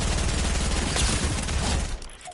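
In a video game, shotgun blasts come in a dense, loud burst that fills about two seconds and then falls away quickly. No one speaks.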